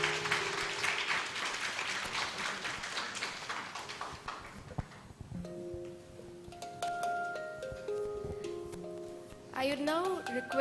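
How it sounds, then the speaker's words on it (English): Audience at an annual day and alumni meet applauding panelists, a burst of clapping that fades after a few seconds, followed by quieter room sound and tonal music or chimes. "And please give them a big round of applause."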